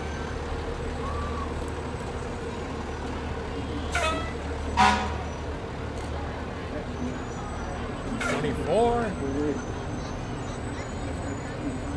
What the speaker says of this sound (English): Light rescue truck, followed by engine 123.